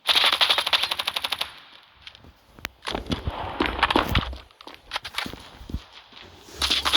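Video-game gunfire rattles off in rapid automatic bursts, loud and close, followed by scattered single shots and impacts, with only minimal talk.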